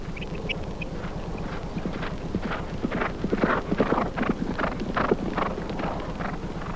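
Rapid clip-clop of horse hooves on hard ground, steady and fairly close, with a windy outdoor hiss underneath and no talking.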